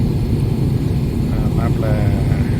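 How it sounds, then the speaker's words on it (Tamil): An airliner cabin just after landing in Sri Lanka fills with a loud, steady low engine and air roar, an unbroken rumble close around the listener, with no clear voices on top. "இப்போ ஸ்ரீலங்கா லேண்ட் வந்துருச்சு ஃப்ளைட்டு"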